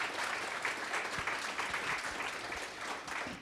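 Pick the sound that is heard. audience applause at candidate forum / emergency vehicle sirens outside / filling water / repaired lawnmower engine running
audience applause at candidate forum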